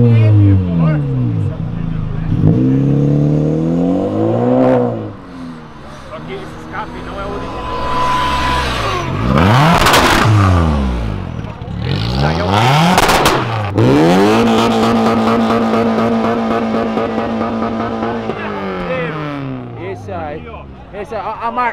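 A car fitted with three exhaust pipes revs hard again and again, its engine climbing and falling in loud roaring sweeps as it leaves a charity car event, with crowd chatter and voices talking throughout.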